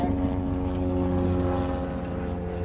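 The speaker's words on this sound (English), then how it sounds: "oh, it's a helicopter now going around here." Helicopter circling overhead, a steady, droning engine and rotor rumble that stays loud and even throughout.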